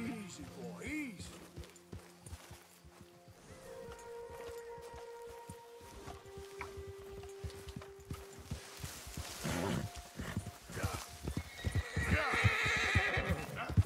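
Horse in the video game Red Dead Redemption 2 neighs and whinnies nervously near a rattlesnake, hooves clip-clopping and shuffling, while a player talks over the game sounds.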